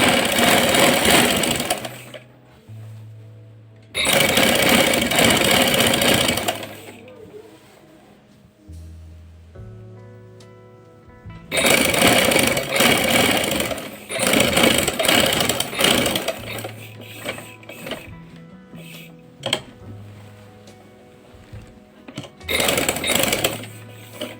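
Sewing machine stitching the fitting of a lined kameez, in loud running bursts of several seconds separated by short pauses, with a low motor hum and rapid needle chatter.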